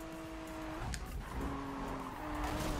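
A car drifts in the Need for Speed racing game, its tires squealing in sustained high tones over a continuous engine roar, with the squeal breaking off briefly and then resuming.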